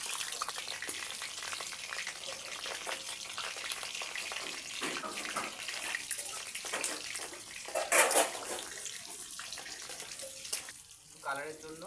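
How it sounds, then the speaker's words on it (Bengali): Potatoes fry in hot oil in a wok for a chicken kosha, a steady bright sizzle and hiss running throughout, with a louder burst of crackle near the end and a faint voice in the background. "তেলটা দিয়ে দেবো, দিয়ে আলুটা ভাজবো।"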